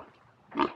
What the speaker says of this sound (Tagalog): may baboy.